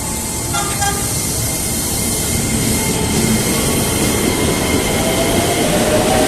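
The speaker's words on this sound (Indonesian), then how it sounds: "ternyata kereta buatan China namanya yang kita naikin" A Chinese-made commuter train runs between Depok and Bogor, a loud continuous rumble of wheels and carriage noise heard from inside, steady throughout, with a faint squeal or tone near the start.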